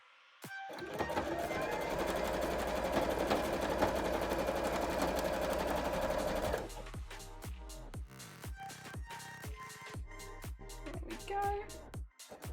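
A sewing machine whirs continuously for several seconds, stitching up the edge of puffy cosplay pumpkin shorts, then halts; a voice talks nearby afterward over scattered clicks and handling noises.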